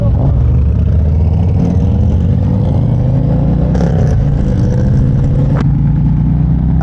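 Motorcycles, a Ducati and a Harley-Davidson Road King bagger, rumble as they ride off, a steady low engine drone with rising revs and a couple of brief clattering bumps, fairly close and loud throughout.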